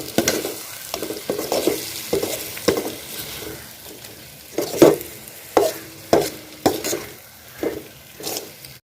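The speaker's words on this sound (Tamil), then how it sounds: "அப்படியே மசாலோடு சேர்த்து ஒன்றா பரட்டி விடுங்க. ஒரு 2 நிமிஷம் மசாலா ஒன்று சேர்கிற மாதிரி பரட்டி விடுங்க." Masala stir-fried in a pan for egg white spicy rice, a continuous sizzle broken by repeated scraping strokes and metallic spoon knocks against the pan, loud and close with no voices.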